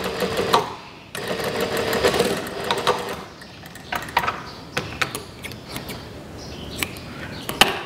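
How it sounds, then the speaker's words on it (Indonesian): A sewing machine stitches a folded sleeve cuff with a pleated edge, running in close bursts of rapid mechanical chatter broken by short pauses and sharp clicks. "Ini bagian ini akan saya jahit dulu"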